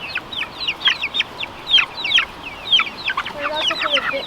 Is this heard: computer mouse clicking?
no